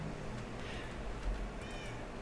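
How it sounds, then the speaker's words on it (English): Cats meowing in a video game, a few soft mews over a low steady background hum, faint and brief. "So anyway, so these are my cats, Ellie and Dallas."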